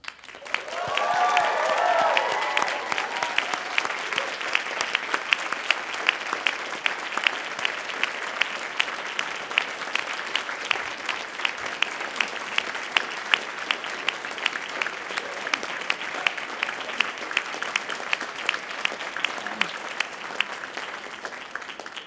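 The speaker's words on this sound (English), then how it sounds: "Now it's your turn to honor them with cheers and applause" Graduates at a Dalhousie University law school spring convocation give a long, steady round of applause and cheering for their family and friends, a broad hall-filling roar of clapping that carries on without pause.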